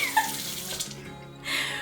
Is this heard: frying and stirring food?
no